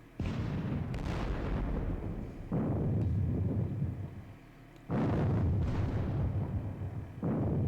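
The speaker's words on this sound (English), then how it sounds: "His indirect fire is being a bit pesky" Indirect artillery fire in a Battle of Friedland war game sounds as a series of loud, booming cannon blasts. Several heavy reports come in irregular bursts, each rolling off into a rumbling decay, with no voices.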